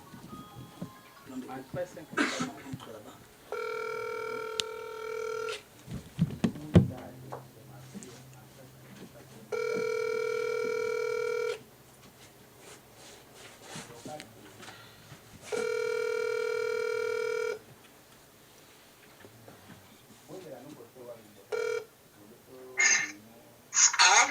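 A telephone rings out in repeated long electronic bursts on a call to a mother, with people talking quietly between the rings.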